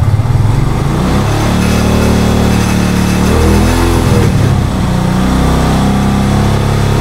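A motorcycle engine fitted with a Tiger regulator-rectifier revs loudly up close as the throttle is opened, holding a steady roar with a couple of rising swells, and no one speaks.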